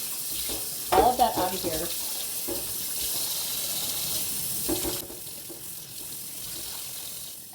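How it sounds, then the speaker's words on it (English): Hot tap water runs steadily into a kitchen sink to rinse out a reusable bag, a continuous broadband hiss with a few brief bumps and a voice speaking quietly near the start. "I am turning on the hot water"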